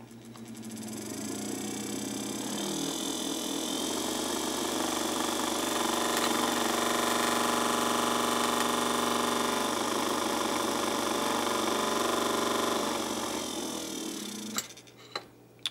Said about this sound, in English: All right, we got some movement there on the motor.